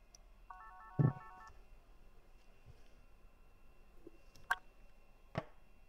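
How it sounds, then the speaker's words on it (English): A Poly VVX 450 desk handset receives an incoming call, with a short electronic ring or tone burst near the start, then a couple of brief clicks from the handset; the room is otherwise quiet with no talking. "I'm just going to initiate a call to the handset."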